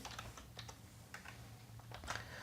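Code is typed on a computer keyboard in quick, irregular bursts of light key clicks, quiet and close, with short pauses between strokes and no speech.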